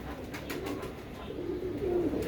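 Soft pigeon cooing, a low throaty warble rising toward the end over light background noise.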